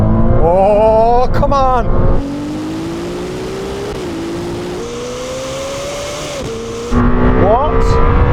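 A Lamborghini Temerario and a Ferrari 296 launch from a rolling start in a half-mile drag race, engines roaring loudly with rising pitch through gear changes, heard from inside a car with an excited voice shouting briefly.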